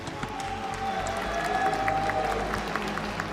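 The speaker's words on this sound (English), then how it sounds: "please can I have a round of applause for the legend, Knee." A crowd at a Tekken 8 group-stage esports event claps and cheers steadily for an eliminated player, a soft, dense patter of applause heard from a distance with a faint tone ringing over it.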